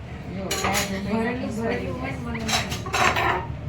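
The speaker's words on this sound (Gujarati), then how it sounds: "આ બેન જો વાસણ ગોઠવે છે." Steel utensils being arranged in a home kitchen, with repeated clinks and clattering knocks of pots and plates set down close by over a low background.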